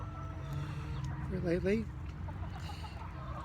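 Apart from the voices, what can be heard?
heritage breed chickens clucking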